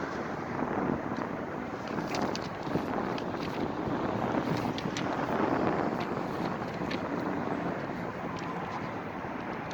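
Outdoor wind buffets the microphone in a steady, loud rumble throughout, with no clear voices over it.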